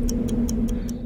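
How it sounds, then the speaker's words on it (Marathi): A clock ticks five times in an even, quick rhythm, each crisp click sitting close over a constant low hum. "10 डेसिबल घड्याळाची टिकटिक"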